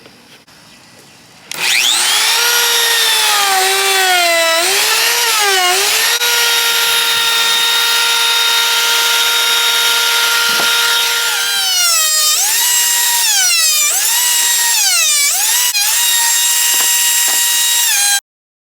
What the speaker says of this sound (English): So now we're going to put a round over in it to give us a lip.